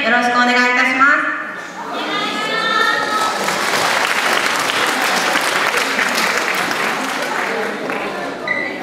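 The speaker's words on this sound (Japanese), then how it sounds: "手拍子声拍子での応援よろしくお願いいたします" Audience clapping along at a year-end yosakoi dance festival, a dense steady wash of applause over music that carries on for several seconds after a voice briefly speaks at the start.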